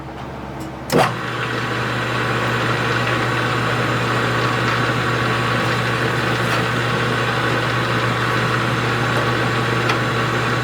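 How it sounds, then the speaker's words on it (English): A metal lathe starts up and runs steadily through its gears, with a short burst at the start settling into a continuous, even mechanical drone and hum that stays loud and unchanging. "I haven't had my lathe running today, so I'm going to go ahead and run it through a couple gears to get the oil moving"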